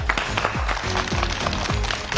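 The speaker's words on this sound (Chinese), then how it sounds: "掌声有请" A studio audience on a Beijing TV dating show applauds steadily as a male guest is welcomed on stage, a dense, continuous patter of clapping with no pause.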